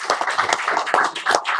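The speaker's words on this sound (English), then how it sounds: "give these guys a round of applause" Audience applause for police officers at an armor presentation: a short, dense burst of many hands clapping together at moderate loudness, steady throughout.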